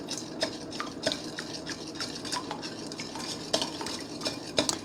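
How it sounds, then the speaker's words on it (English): A utensil stirs sugar into vinegar for a Jamaican-style sweet and sour sauce, giving steady close scraping and light clinking against the bowl in a quick irregular rhythm with no talking. "Now I'm going to stir until the sugar all dissolve."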